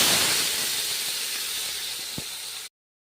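Ground paste for thoothuvalai rasam hits a hot pan and sizzles in a loud, steady, close hiss that fades slightly before cutting off abruptly.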